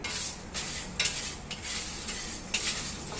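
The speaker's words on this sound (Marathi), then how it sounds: "आणि हे सगळे खडे मसाले आपल्याला कोरडेच भाजून घ्यायचे" Whole spices for biryani masala dry roasting in a pan without oil, a soft continuous hiss with periodic scraping strokes of a spoon as they are stirred.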